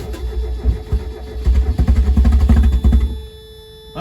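A cheap $700 Mazda Miata, top down and intake just refitted, cranks with rhythmic chugging starter pulses, loud and close, before the engine note settles into a quieter hum.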